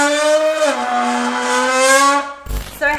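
A loud, buzzy voice hums into a bent soda can to imitate a Lamborghini engine, a sustained tone that dips and rises like revving before cutting out with a rattle and a brief restart.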